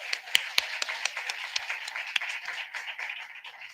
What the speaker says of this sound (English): Let's applaud the legacy of James Otis Williams.